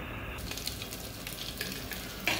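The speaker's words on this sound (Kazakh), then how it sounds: "Мінекей достар, кішкене тілгілеп, сосискімізді салып қуырамыз." Scored sausages fry in melted butter in a pan with a soft, steady sizzle and a few light scraping stirs, fairly quiet and close.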